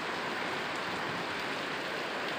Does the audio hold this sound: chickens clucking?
no